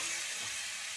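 Boiled potatoes and cauliflower fry in a pan with a brief, soft, even sizzle that holds steady throughout.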